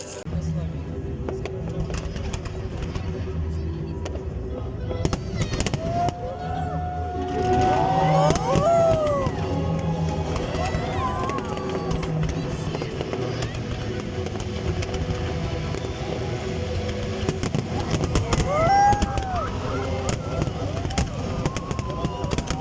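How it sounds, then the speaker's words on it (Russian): A city-day fireworks show in Sormovsky Park, Nizhny Novgorod, with repeated bangs and crackles over a steady crowd murmur. Rising whistles climb above the din before the bursts. "Сейчас должен начаться салют."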